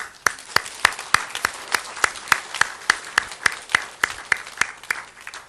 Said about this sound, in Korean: 오늘 그 아내들에게 한번 박수 한번 쳐주세요.